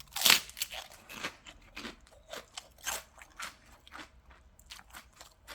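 Close, crisp crunches and biting snaps come from someone chewing raw vegetables, irregular bursts spaced through the mouthfuls with softer chewing between them.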